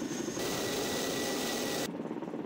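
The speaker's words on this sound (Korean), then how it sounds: "치누크 헬기가 들어오고 무장한 특전대원들이 탑승합니다." A Chinook military helicopter arrives at a special forces winter training exercise, its rotor and turbine noise a fairly faint, steady broadband roar that swells for a second or so and then cuts away to quieter background.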